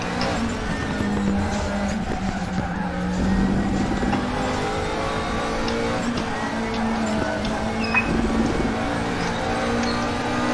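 A McLaren 650S GT3 race car in the RaceRoom sim at Suzuka, engine droning steadily up close with tyre scrub and squeal as it fights for grip, running continuously throughout.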